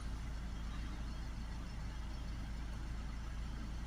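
A Honda Civic 2.2 diesel engine with a partly blocked DPF idles with a steady low hum without change, a faint continuous rumble with no other sounds.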